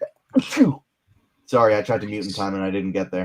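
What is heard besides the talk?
sneeze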